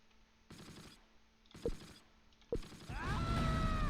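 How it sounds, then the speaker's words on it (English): Tank cannon fire in the World War II strategy game Close Combat: two deep, muffled booms a second apart over a quiet background, followed by a rising mechanical whine and rumble. "I thought I heard a cannon."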